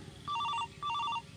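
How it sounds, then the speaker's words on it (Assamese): A telephone rings indoors in two clear, identical electronic trilling bursts separated by a short gap, fairly loud and near, with no voices over it. "এ ফোনটো আহিছে মোৰ"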